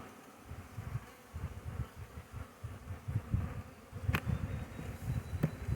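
Honey bees buzzing steadily at close range as they prepare to leave a five-frame nucleus hive, a low droning hum with a couple of brief sharper clicks near the end.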